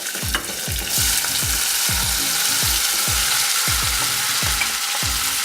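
Beans frying in olive oil with oregano and thyme in a pan give a steady, close sizzle, broken by about a dozen regular scraping stirs of a spoon against the pan.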